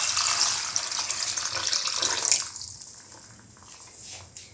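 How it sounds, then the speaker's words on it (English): Water splashes loudly as 300 ml is poured into a cucumber coconut stew, a bright steady gush for about two and a half seconds that stops abruptly, followed by quieter liquid stirring sounds. "Now pour in 300 ml of water."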